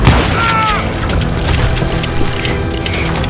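Gunshots in the western shooter Call of Juarez Gunslinger, loud dense firing blended into a busy, continuous wash of game noise.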